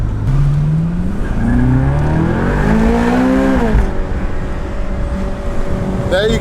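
A Ferrari's engine hums steadily throughout, its pitch rising and sweeping in several revving glides before settling into a constant drone, heard up close inside the car.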